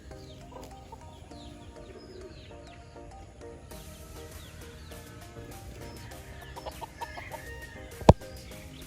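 Gamefarm hens cluck softly and intermittently among other fowl, fairly distant and low, with a rooster crowing faintly and a sharp knock near the end.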